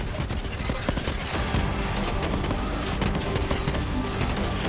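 Dense, continuous roar of repeated grenade explosions and gunfire in the shooter game Borderlands 3, loud and packed with overlapping blasts and no pauses.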